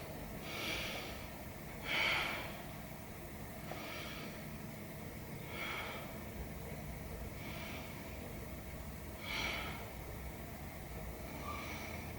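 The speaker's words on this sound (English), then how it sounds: "Take nice big breaths right down to the belly." Deep belly breathing during a yoga class, with several slow, audible inhales and exhales spaced a few seconds apart over a steady background hum.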